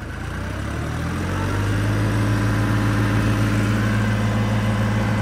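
A New Holland 3630 tractor labours under load pulling a rotavator through yellow soil, its engine a loud, steady low drone that rises and thickens as it strains, with no voices.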